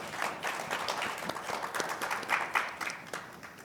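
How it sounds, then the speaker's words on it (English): Applause from a panel discussion audience on school neutrality and culture wars, a fairly dense patter of many hands clapping at moderate volume, steady throughout with no voices over it. "Please give a round of applause to this wonderful panel"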